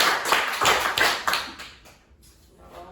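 Children in a classroom clap in a rapid burst of several close, crisp hand claps that fade into quieter room noise.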